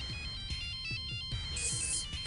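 A mobile phone ringtone goes off unexpectedly on a TV show set, a bright repeating electronic melody that plays steadily throughout with no voices over it.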